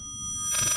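A telephone rings inside the horror game Layers of Fear, entering about halfway through as a bright, pulsing electronic bell that rises to moderately loud over a low rumbling ambient drone.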